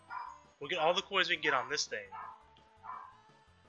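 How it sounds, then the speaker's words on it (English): Sharp barks from a household dog break out in a quick run under a man's steady chatter, then fade while he keeps talking. "Excuse my dog barking."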